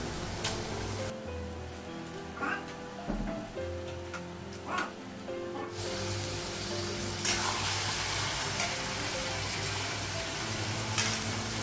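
Meat being fried and stirred with spices in a pan, a steady sizzle running throughout with occasional clinks and scrapes of stirring, louder and brighter in the second half.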